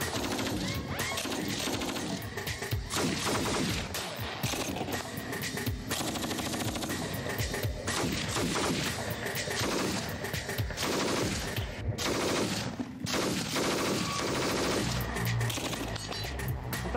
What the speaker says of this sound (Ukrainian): Пробуємо вогонь короткими чергами.